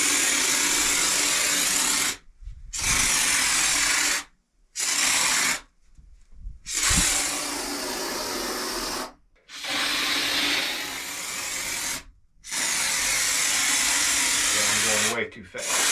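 A DIY spray foam kit hisses foam out through a valve opened too far, in loud sustained bursts broken by several short silent gaps as the spraying stops and restarts.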